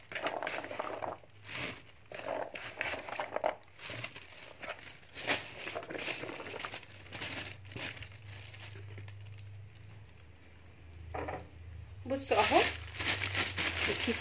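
A plastic bag of grated carrots crinkling and rustling in bursts, close by, with a person talking over much of it and a louder crinkle near the end.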